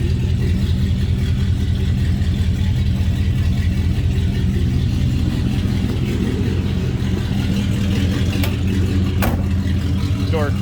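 The engine of a 1965 Oldsmobile Jetstar 88 convertible runs at a steady loud idle with a deep continuous rumble, and faint clicks come near the end.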